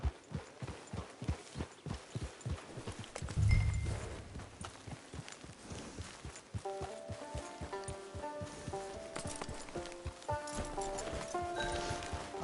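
Horse hooves clip-clopping at a steady trot in Red Dead Redemption 2, a regular rhythmic beat that fades into background music partway through.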